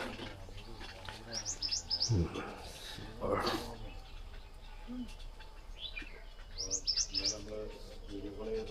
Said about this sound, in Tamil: பறவைகளுடைய சப்தம்.